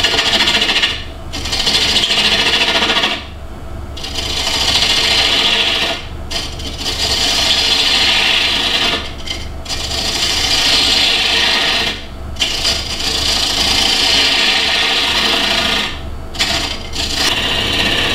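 A wood lathe turns a wooden night light while light cuts scrape across the spinning piece, a loud, close, continuous rasping broken by several brief pauses between passes.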